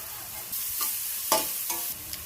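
Onions frying in a pan for a mixed vegetable curry, a steady sizzle with a few sharp stirring scrapes and clinks over about two seconds, no voices.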